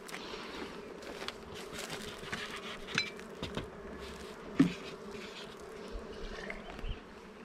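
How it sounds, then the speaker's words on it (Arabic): Honeybees from a strong colony buzz steadily in an open hive during an inspection, a dense close hum with a few light knocks and clicks from handling the frames. "بدناش النحل يبني لفوق، خصوصا تكون خليه زي هيك قويه."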